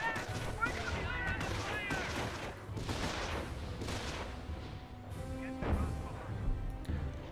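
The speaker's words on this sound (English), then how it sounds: "Lots of recoilless rifle shots are coming on out" Recoilless rifle fire in a Company of Heroes battle, several booming shots and crashes scattered across a busy wartime soundscape, mid-distance, with a commentator talking over it.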